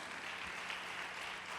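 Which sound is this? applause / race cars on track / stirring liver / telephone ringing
applause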